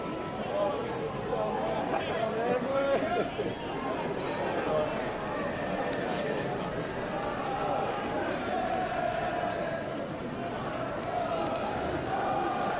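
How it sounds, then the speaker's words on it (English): Home crowd at a BUCS Super Rugby university match, Loughborough against Exeter, singing Flower of Scotland, a dense sustained roar of many voices with a rising chant running steadily throughout. "the crowd starts singing Flower of Scotland"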